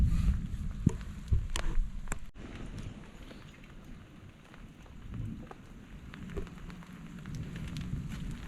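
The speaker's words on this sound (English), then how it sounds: "it's raining a lot more than what it said" Heavy rain pattering steadily on a hike in rain and thunder, a constant wash of drops with a few sharper close taps, moderately loud and uninterrupted, with no voices.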